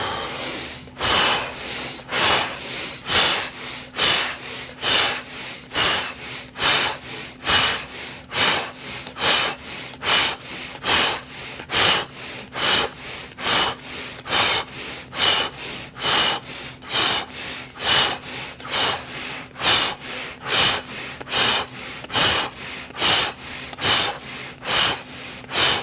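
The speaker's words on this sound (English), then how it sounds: "Let's go. 25 breaths." Forceful rhythmic Wim Hof method breathing, about twenty-five deep inhale-exhale cycles in an even, rapid pulse, close and loud with no talking over it.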